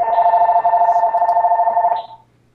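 A telephone rings with a steady electronic warble, loud and close, holding for about two seconds before cutting off and fading to silence.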